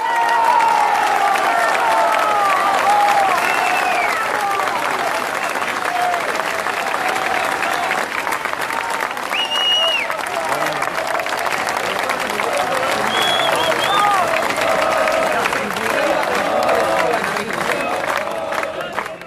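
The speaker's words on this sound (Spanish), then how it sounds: "Fuerte el aplauso" Sustained applause from a large audience fills the space, with scattered cheers and faint voices mixed into the steady clapping.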